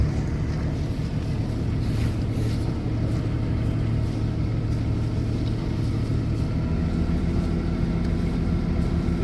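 A vehicle engine idles steadily at about 1500 to 2000 rpm, a loud continuous low rumble with wind buffeting across the microphone throughout.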